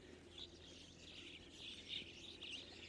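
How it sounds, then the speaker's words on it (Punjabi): Sparrows twittering together at dusk beside flood water among trees and crops, with faint, high chirps scattered over steady background noise and no voices. "ਸਾਰੀਆਂ ਚਿੜੀਆਂ ਇਕੱਠੀਆਂ ਹੋਈਆਂ"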